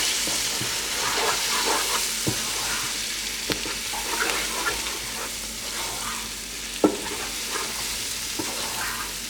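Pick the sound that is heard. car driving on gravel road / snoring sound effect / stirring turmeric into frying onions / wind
stirring turmeric into frying onions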